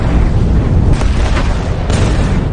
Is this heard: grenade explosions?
yes